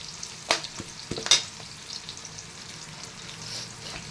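Onions and pork frying in a pan for adobo give a steady sizzle with a few sharp scrapes and clatters of stirring near the start, close and moderately quiet.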